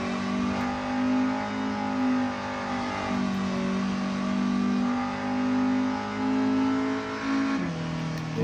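In Gran Turismo 7, a Honda N-One's small engine hums and revs in steady waves, its pitch rising and falling, loud and close with no voices.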